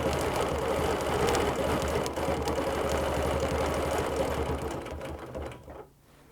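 A sewing machine runs steadily for about six seconds as its foot rides along a ruler, quilting clamshell lines across a gridded quilt, with a continuous mechanical hum and rapid stitching rhythm that winds down at the end.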